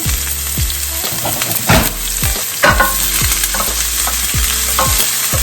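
Onion frying in hot oil in a pan for New Mexico green beans, a steady loud sizzle with popping spatter and repeated scraping strokes of a stirring utensil, no talking.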